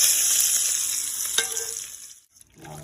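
Hot tempering of fried spices poured over mashed eggplant chokha, a loud broad sizzle that fades after about two seconds, ending in near silence with a faint clink.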